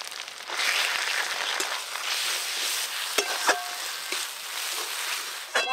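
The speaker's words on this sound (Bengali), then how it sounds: "মশলা তো খুব ভালো করে কষে নিয়েছি," Ginger-cumin paste, dried red chilli paste and turmeric frying with browned onion in a pan for an Indian potato, pointed gourd and fish curry, a steady close sizzle with a few sharp clinks of a spatula against the pan.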